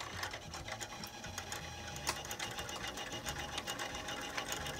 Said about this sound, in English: now I'm able to mount the weapon to the lathe. And I have a boring bar connected.